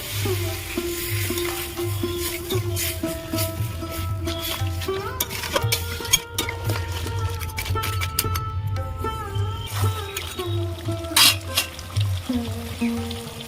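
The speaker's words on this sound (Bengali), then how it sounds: "ভালো করে কষিয়ে নিয়েছি আর জল দিয়ে দেবো" Crab curry sizzles loudly in a pan as water goes in, with repeated spatula scrapes and clinks cutting through a steady frying hiss, close and without talk.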